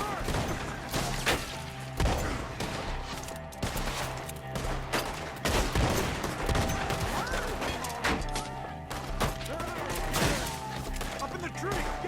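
Chaotic gunfire in Red Dead Redemption 2, with scattered sharp shots and cracks going off throughout over a busy scene while voices shout over the action.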